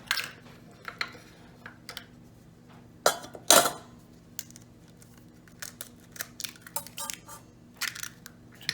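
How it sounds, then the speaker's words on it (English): Eggs cracked open one at a time for a sausage frittata: a few sharp close cracks and crunches, one loud shell break standing out, among scattered light kitchen clicks and taps. "now we start to crack the eggs"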